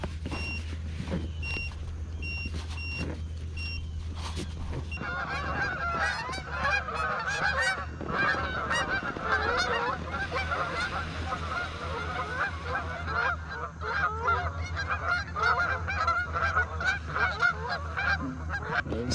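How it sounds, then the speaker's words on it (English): Several geese honk repeatedly near an inflatable kayak on open water, their calls dense and overlapping over a steady low hum, growing busier as more birds arrive. "So the geese have decided to join me."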